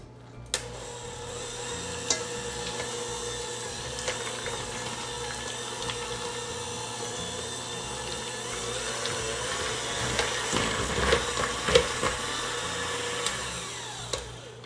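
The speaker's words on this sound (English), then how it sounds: "So we're gonna beat this together until it's nice and smooth." An electric mixer beats pumpkin cheesecake filling with sugar and vanilla until smooth, giving a steady mechanical whir with small rattling ticks that stays even throughout, with no talking.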